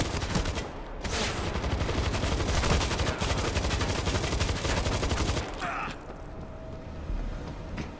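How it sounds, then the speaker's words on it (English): Auto turrets in a World War Z level fire continuous rapid bursts of loud automatic gunfire for several seconds, a dense rattling barrage that breaks off briefly and resumes more faintly near the end. "We've got auto turrets in here!"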